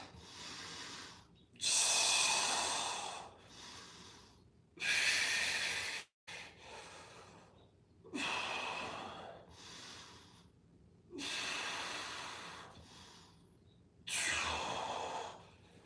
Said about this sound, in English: About 10 breaths.